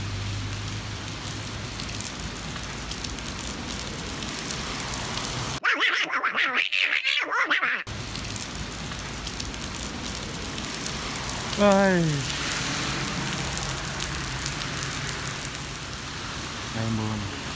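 Heavy storm rain pours steadily over flooded Saigon city streets during Typhoon No. 9, a constant dense wash running throughout with brief voices and a short louder burst partway through.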